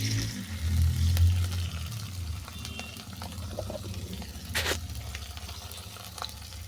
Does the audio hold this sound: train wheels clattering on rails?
no